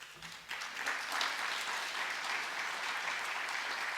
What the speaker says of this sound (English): Oh, you applaud him, very nice.